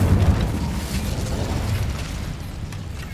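An Incendio fire spell goes off in the Hogwarts Legacy video game, a loud rumbling burst of flame that starts strong and fades into a sustained whooshing roar.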